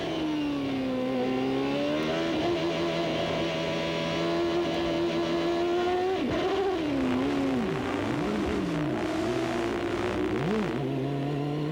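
A 1994 CART IndyCar engine drones steadily at Loudon, New Hampshire, pitch climbing and dropping through gear changes, with brief squealing chirps from the rear tyres, heard from a distance.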